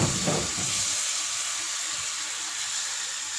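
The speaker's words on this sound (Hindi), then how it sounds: "इसको 1 मिनट के लिए भूनेंगे।" Garlic ginger paste fries in hot oil with a continuous bright sizzle and hiss, steady and close, with no talking over it.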